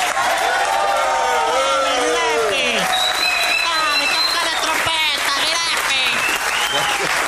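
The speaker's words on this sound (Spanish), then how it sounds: "No menos salvaje ha de ser la ovación tributada al artista antes llamado Gillespie." A wild ovation from an audience at a live comedy or radio-style stage show, with loud sustained applause, cheering and whoops filling the room, and voices shouting throughout.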